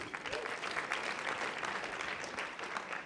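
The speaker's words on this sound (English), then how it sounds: "Let's give Congressman Costa a round of applause," Steady applause from a luncheon audience at a technology roundtable honoring a congressman, dense clapping sustained at even loudness throughout with no gaps.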